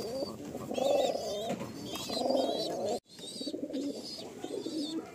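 A pair of Madrasi pigeons coo in a loft, close and clear, repeated throaty rolling coos in two bursts with a short gap between, over a soft background hiss.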